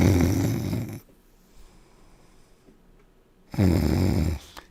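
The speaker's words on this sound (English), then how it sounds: "Kept snoring." A man snores loudly into a phone line, with two long, heavy snore bursts at the start and end separated by a quiet stretch of faint breathing.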